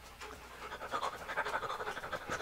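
A dog pants close by, quick rhythmic breaths repeating steadily and growing a little louder, alone with no talking.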